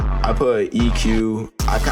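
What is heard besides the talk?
No distinct noise like a dog, phone or traffic.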